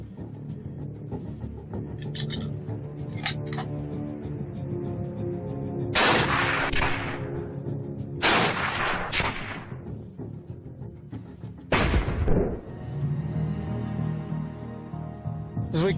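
Several sharp gunshots crack out one at a time among brief metallic impacts as bullets strike test targets: melons and a length of tree trunk. The shots are loud and widely spaced over steady background noise.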